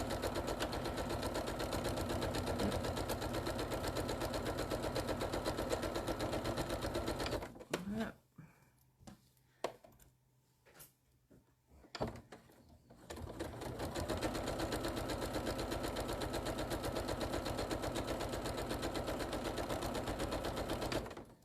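A sewing machine stitches a 1/8 inch seam on quilt panels, running in long, loud, continuous bursts close by, pausing for a few seconds midway amid light handling clicks and a voice, then starting again.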